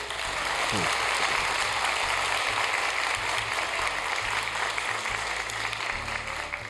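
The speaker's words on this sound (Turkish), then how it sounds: "öğrenciler kendilerinizi alkışlayabilirsiniz" Students in a studio audience during an iftar program clap together in a sustained round of applause, fairly distant and steady, with a low mechanical hum underneath.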